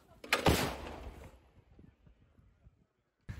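An artillery gun fires a shell with a single sharp, loud blast that decays into a long rumbling echo, followed by near silence and a brief second impact at the end.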